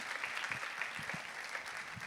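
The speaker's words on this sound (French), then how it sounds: "Et déjà, applaudissez-vous." Audience applause at a women's event, a steady wash of many hands clapping, fairly quiet and distant throughout, with no talking over it.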